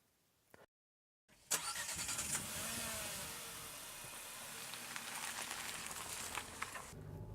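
Engine of a 2014 Nissan Pulsar while driving: after a brief silence a bright, steady mid-pitched engine and road roar rises abruptly and holds, close and fairly loud.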